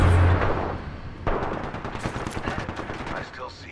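Sustained automatic gunfire in Apex Legends rattles close and loud in rapid bursts, with a renewed volley midway through, over dense game action with a voice partly underneath.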